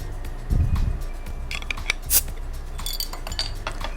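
Flour with salt, pepper and cayenne mixed in a bowl for fish tacos: close, quiet scraping and clinking of a utensil against the bowl with a soft thump early on, irregular and steady over a faint room hiss.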